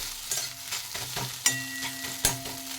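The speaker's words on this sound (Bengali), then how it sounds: "ডিমটা ভালো করে এইভাবে ভেজে ঝুড়ো করে নিয়েছি" Beaten eggs scrambling in hot oil in a wok, a continuous close sizzle broken by repeated scraping and clanking stirs of the spatula.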